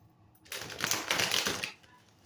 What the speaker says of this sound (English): Let's get us a shuffle.